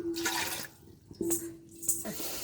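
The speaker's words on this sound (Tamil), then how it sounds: "இதில் தேவையான அளவு தண்ணி ஊற்றிக்கணுங்க." Water is poured into pounded rice flour in a bowl for Tamil adhirasam sweets. A few brief splashing gushes break the quiet, with a faint steady hum between them.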